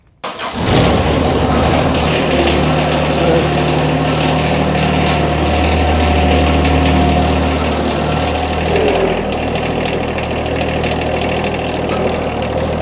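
A John Deere 1025r compact tractor engine kicks on and runs at a steady, loud idle nearby, a continuous diesel drone with a low hum throughout and a slight shift in tone near the end.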